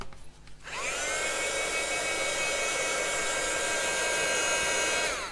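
A heat dryer blows on Brushos watercolour paint at a scrapbooking craft table. It switches on with a rising whoosh and holds a loud, steady whirring hiss close by for several seconds.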